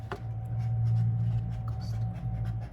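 A pen writing plant names onto a plastic winter-sowing container, soft close scratchy strokes over a low steady hum, no talking.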